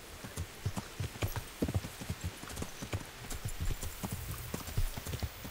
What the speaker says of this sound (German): Das heißt, ich reite zurück.